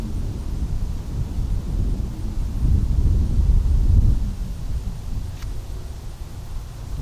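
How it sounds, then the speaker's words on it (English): Outdoors, gusting wind rumbles and buffets across the microphone in a low, uneven roar that swells in the middle before easing, with no talking. "the wind picked up at the same time"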